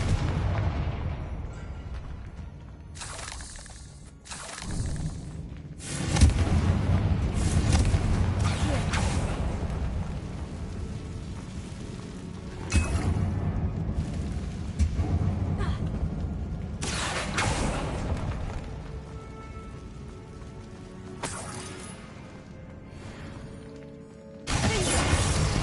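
Confringo explosive spell blasts in Hogwarts Legacy ring out inside a decaying catacomb, several heavy booming bursts with shattering crashes separated by brief quieter gaps, fairly loud and mostly without talk.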